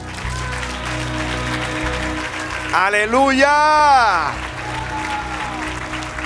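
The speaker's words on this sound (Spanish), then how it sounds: "Otro aplauso al Señor." A church congregation applauds the Lord during a sermon, a continuous wash of clapping running beneath a voice that calls out loudly and excitedly partway through.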